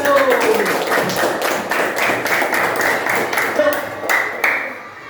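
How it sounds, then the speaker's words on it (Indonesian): An elementary school classroom claps for a student group with brisk, close, uneven clapping, while children's voices and chatter mix in throughout before the clapping fades. "Kalau tak ada, tepuk tangan buat kelompok 1"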